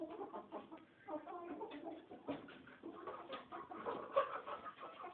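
Chickens and young hens moved into an old coop give a busy mix of soft clucks and coos, a steady murmur of many birds close by with a few sharper calls rising out of it.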